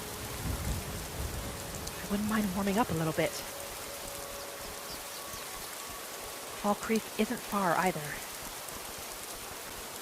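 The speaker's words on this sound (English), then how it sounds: "I'm about ready to get out of this rain for a little while." Steady rain falls in the Skyrim video game, a constant hiss that runs through the whole stretch while a person speaks briefly over it twice.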